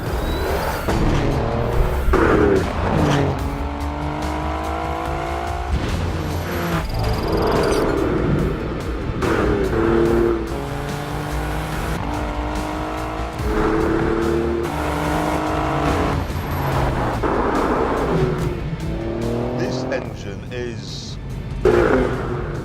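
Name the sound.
Alfa Romeo Giulia QV twin-turbo engine accelerating hard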